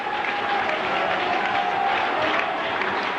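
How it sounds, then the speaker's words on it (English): A packed cricket stadium crowd erupts as Waqar Younis bowls, a dense, steady roar of cheering and clapping that stays loud and unbroken throughout. "The crowd on their feet, complete eruption of emotion here."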